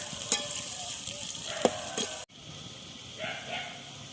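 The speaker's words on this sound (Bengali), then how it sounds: "পেঁয়াজটা হালকা লাল করে ভাজবো। দিলাম তেজপাতা একটা।" Onion and a bay leaf fry in hot oil, producing a steady, close sizzle with occasional spatters and a brief cut midway before the frying resumes.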